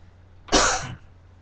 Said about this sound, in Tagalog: Nakuha pati ubo mo, buo.